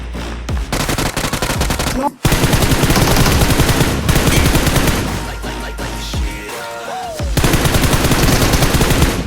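Rapid automatic gunfire in PUBG Mobile, loud dense bursts of repeated shots filling nearly the whole stretch, broken by one short gap and a quieter dip near the end.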